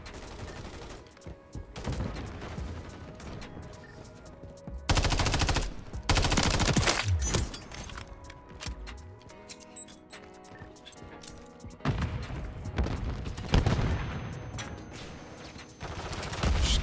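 Automatic weapon fire from a Call of Duty MW3 multiplayer match, with loud rapid bursts repeating across the clip and quieter gaps of game ambience between them.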